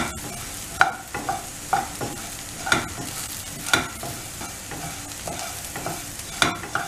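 Coriander seeds and onions are stirred together in a hot pan while they roast. Soft sizzling runs throughout, and a spoon scrapes and taps the pan in a repeating stirring rhythm, loud and close, with no talking.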